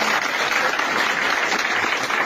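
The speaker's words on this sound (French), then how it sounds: "Vous pouvez les applaudir très fort." Sustained audience applause at a political rally in Côte d'Ivoire, a dense, even wash of clapping from a large crowd filling the whole stretch without pause.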